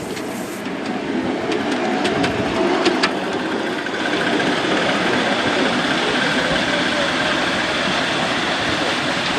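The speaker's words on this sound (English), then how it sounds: "The first loco this morning to start the competition is John Drule on his 5-inch gauge meter maid" A 5-inch gauge miniature locomotive at a load-hauling competition strains to pull away, giving a steady loud mechanical chuffing and rumbling drone, with a few brief higher clanks early on and no talk.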